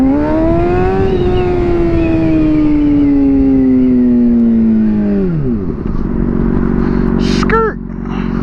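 Motorcycle engine revving hard through a wheelie, a loud sustained high whine that holds steady, then drops sharply in pitch as the front wheel comes down, with brief squeaky sounds near the end.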